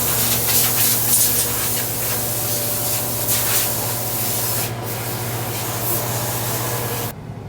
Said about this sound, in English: we're going to get to blowing on the combines